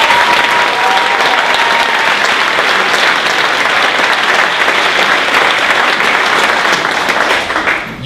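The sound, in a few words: audience applause at a medals ceremony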